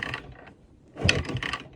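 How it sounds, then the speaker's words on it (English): Kickstart mechanism of a CZ 250 Sport motorcycle being worked, giving two bursts of close mechanical clatter and ratcheting separated by a quieter pause, with no engine running. "Just release the kickstart."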